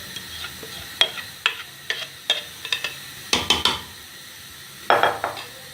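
Haleem ingredients tipped into a cooking pot and stirred together: a series of sharp metal spoon scrapes and clinks against the pot, some in quick clusters, over a faint steady background hiss, with no talking.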